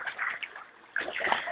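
Water splashes as a child swims, in two short rustling bursts separated by a brief lull.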